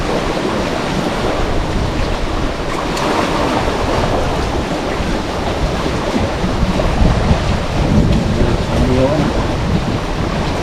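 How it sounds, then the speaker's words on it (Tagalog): Rough ocean waves and surf during the habagat monsoon, heard from a small fishing boat at high tide; a continuous loud wash of water with heavy wind rumble buffeting the microphone. "Alon at saka high tide"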